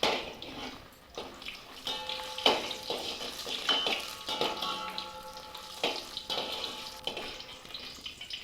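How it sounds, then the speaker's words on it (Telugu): Chillies frying in sesame oil for nalleru pachadi, a soft crackling sizzle with intermittent metallic scrapes and taps of a utensil in the pan, fairly close and without talk. "ఒక్కొక్కటి వేయించుకోవాలి."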